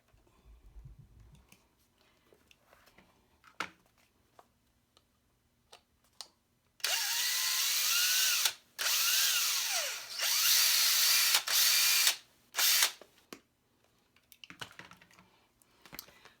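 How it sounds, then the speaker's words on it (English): A power drill whirs in several bursts, drilling out the rings of a Filofax planner, starting and stopping, close by, with quiet clicks and handling noises between runs. "So that's what I'm going to drill out right now"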